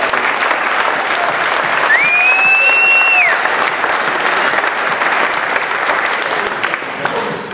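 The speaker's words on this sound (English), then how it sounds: "Big round of applause." A big round of applause fills the hall at an Austin awards ceremony, steady clapping from the audience throughout, with a brief whistle rising above it early on.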